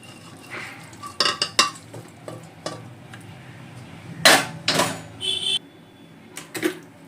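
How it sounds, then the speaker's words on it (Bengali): Bottle gourd and prawn curry tipped from a pan into a serving bowl, with scattered metallic scrapes and clinks of utensil against cookware, a louder clatter partway through, then quieter knocks. "লাউ চিংড়িটা হয়ে গেছে, ঢেলে নিলাম পাত্রের মধ্যে"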